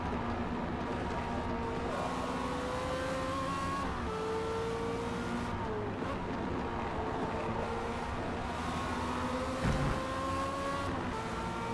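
A Formula Mazda open-wheel race car engine in the Forza Motorsport racing game drones steadily with sustained, slightly shifting harmonic tones and no talking, while a rival car runs close behind.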